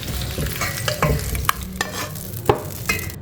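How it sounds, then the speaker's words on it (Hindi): Fried chicken gola kebabs are stirred into gravy in a pan, with clear scraping and clacking strokes over a soft sizzle, close and irregular. "अब हम इनको वापस जो हमारा ग्रेवी थी उसके अंदर हम मिक्स कर देंगे"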